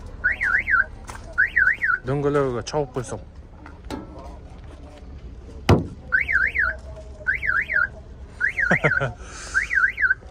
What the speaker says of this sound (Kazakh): Сигнализациясы бар екен